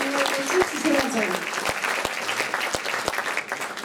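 An audience in a hall applauds at a senior dance group's anniversary concert, a loud, continuous spatter of clapping with a few distinct louder claps, and a voice speaks over the start.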